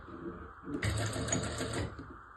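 A sewing machine runs in one steady burst of rapid stitching along the neckline of a baby frock, starting abruptly and stopping after about a second, set against low room hum.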